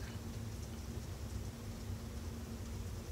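Rain falling steadily at night, a dense, even hiss with low rumbling underneath and no voices.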